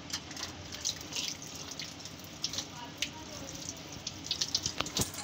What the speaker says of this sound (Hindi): अब मैं इसको साफ पानी से धो लूँगी